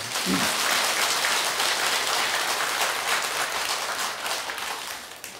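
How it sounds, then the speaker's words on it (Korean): A temple congregation at a Buddhist dharma talk at Beomeosa applauds together, a dense, even burst of many hands that holds steady, then gradually thins and fades out. "성취가 되겠다는 분은 박수 한번 쳐봐라."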